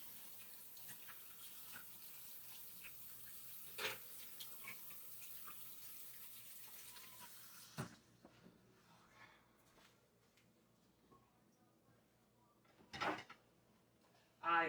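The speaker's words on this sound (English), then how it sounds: "Wash my hands, soap in water." Hands are washed with soap under a running tap at a kitchen sink during chocolate cake baking, the steady water hiss flowing for several seconds, then cutting off, followed by a few faint clunks and a closer knock.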